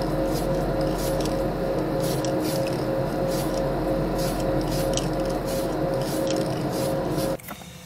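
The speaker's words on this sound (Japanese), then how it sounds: "クリアレッドのスプレー缶がまだあったので" A spray can of clear red paint hisses steadily onto the clear lens of an Aoshima Toyota Supra plastic model kit, one long continuous spray with faint crackle that cuts off abruptly near the end, no talking.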